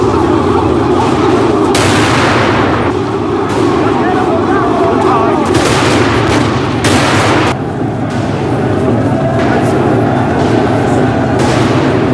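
Battle gunfire from British 7-pound field guns and a Gatling gun in the Anglo-Zulu War, a loud, dense, continuous roar with repeated heavy bursts of shots and booms throughout.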